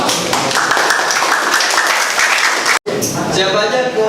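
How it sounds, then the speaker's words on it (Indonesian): Classroom students clap for a student group, a lively burst of close, dense clapping that stops abruptly, followed by the murmur of pupils talking in the room. "Beri tepuk tangan dulu"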